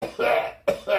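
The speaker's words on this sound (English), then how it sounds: "That's real coughing." A person coughs twice in two hard bursts separated by a short pause, close and loud, in a casual indoor setting.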